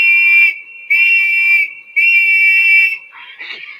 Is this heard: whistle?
yes